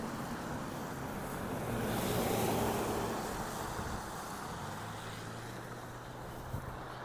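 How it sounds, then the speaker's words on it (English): Cars streaming past on a fairly busy street, Parliament Avenue in Regina, in November, with a steady broadband traffic hiss and rumble that swells briefly as a vehicle passes close by, with no talking. "The cars zipping past me."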